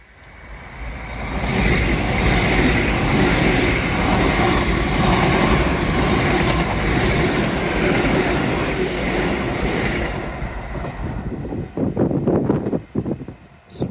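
A train passes along the Teignmouth seawall by the sea, a loud broad rushing roar that builds in about a second, holds for roughly ten seconds and then fades into scattered clunks.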